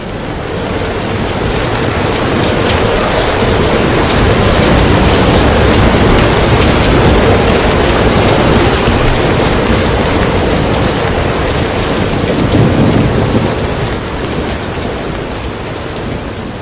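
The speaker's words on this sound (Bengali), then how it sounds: "চারিদিক অন্ধকার করে বৃষ্টি নামবে।" Rain and thunder sound effect played during a school drama performance: a dense, steady downpour roars throughout, with a deeper rumble of thunder swelling near the end.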